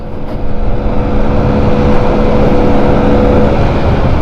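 A Honda Scoopy Metropolitan scooter's small engine revs high while being ridden, a loud, sustained droning buzz with wind rush that swells slightly early on, then holds steady.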